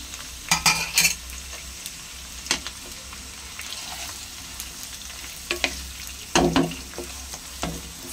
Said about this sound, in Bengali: তেলটা গরম হয়ে গেছে, এবার পেঁয়াজ কুচোগুলো দিয়ে দিলাম।